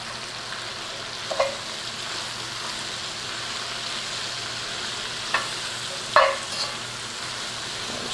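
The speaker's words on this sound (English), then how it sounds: "we've got our onions cooking away" Four cups of onions fry in bacon grease in a pot for chili mushroom soup, a constant gentle sizzle broken by a few brief spoon clinks and stirs.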